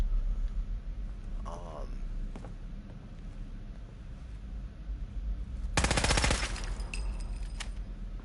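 Rapid automatic AK rifle fire from the video game Fallout 4, a dense burst of shots lasting about a second, loud and close, with game ambience around it.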